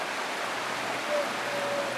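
Steady broadband rush of a waterfall in the game Wuthering Waves, continuous and fairly loud, with a faint tonal whine passing over it and no talk.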